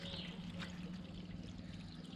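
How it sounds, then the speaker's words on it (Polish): Green coolant is poured into the radiator of an Aprilia SR50 scooter, making a brief, continuous trickling pour that stays steady at moderate volume. "Zalejemy go ładnym płynem, żeby się nam maszyna nie zagotowała."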